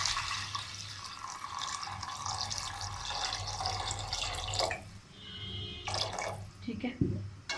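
Water poured from a tap or jug into a pot of white peas for pulao, a continuous splashing stream with drips, ending in a few clinks and knocks.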